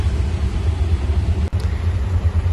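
Heavy city road traffic during the Ganpati festival rumbles loudly and continuously, a dense low engine drone heard from inside a vehicle, with one brief dip midway.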